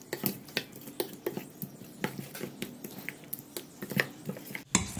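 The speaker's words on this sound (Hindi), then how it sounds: "इन सब चीज़ों को हम अच्छी तरह से मिक्स कर लेंगे।" Spoon scraping and clinking in a bowl as semolina batter is mixed with salt and roasted cumin, a steady series of short taps and scrapes close by, alone without talk.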